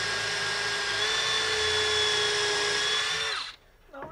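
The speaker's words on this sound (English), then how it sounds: "Then I'm going to drill." A power drill with a 1/8 inch bit bores a starter hole, a steady high whine running for about three and a half seconds before spinning down and stopping, close and clear.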